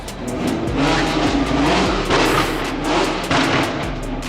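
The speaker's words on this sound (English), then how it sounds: "65 Mustang, very beautiful." A 1965 Ford Mustang engine runs loud and close, its steady rumble swelling with a couple of revving surges, no talk over it.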